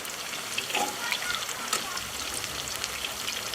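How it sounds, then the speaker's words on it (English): Grated potato fritters fry in a pan of hot oil, giving a steady close sizzle with crackly spitting pops throughout, no talking. "Happily sizzling away"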